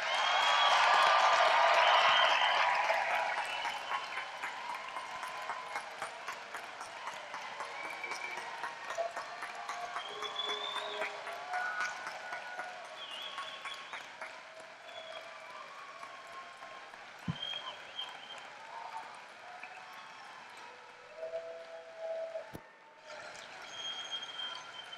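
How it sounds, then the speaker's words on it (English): An audience applauds graduates at a Seton Hill University commencement ceremony, a loud burst of clapping at first that settles into a softer, scattered patter in a large hall. "Let's give the graduates a round of applause."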